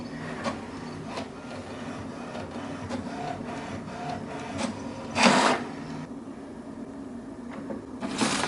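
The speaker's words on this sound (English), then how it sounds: "And the printer is now printing the alignment page." An HP Ink Tank 310-series printer printing its alignment page: steady mechanical whirring with rhythmic clicks and a couple of louder paper-feed rasps, close up and alone.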